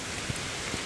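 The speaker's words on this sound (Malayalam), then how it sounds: "ഇപ്പോൾ ഇവിടെ നല്ല മഴയാണ്" Heavy rain pours down in a dense, continuous hiss, close and steady, with a few heavier drops standing out briefly.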